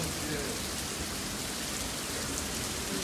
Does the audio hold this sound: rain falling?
yes